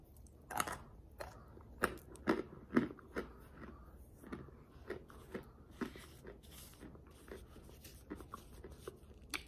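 Crunchy starch chunks bitten and chewed close to the mouth, giving a run of sharp irregular crunches and crackles over about nine seconds, some louder bites among softer grinding chews, with no talking.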